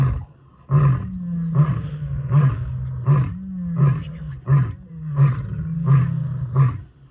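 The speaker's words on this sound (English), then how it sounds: "Did you hear him roar? Yeah, he's roaring." A male lion roaring nearby in a long, loud series of deep grunting calls, about nine evenly spaced bursts building in rhythm, with no talking.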